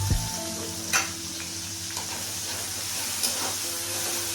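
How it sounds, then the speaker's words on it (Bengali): Grated and pasted onions fry in hot oil with a steady, close sizzle and a few soft stirring clinks, with no talk. "পেঁয়াজও ভাজা হয়ে যাচ্ছে"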